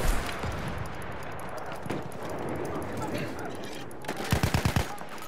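Rapid bursts of machine gun fire in the Battlefield 1 Argonne Forest multiplayer map, a quick rattling volley near the end over constant battle noise and scattered distant shots, with voices calling out.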